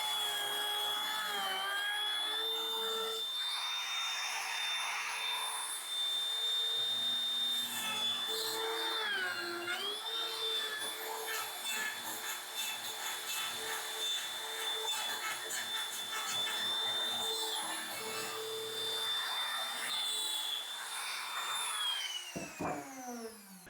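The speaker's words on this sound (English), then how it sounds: "I position the router on the template, fire it up and let it come up to RPM, and use a constant steady feed rate to make this mortise quickly and cleanly" A wood router on a template cuts a mortise for a round-corner hinge, a steady high-pitched whine held for about twenty seconds at constant feed, then winding down abruptly near the end.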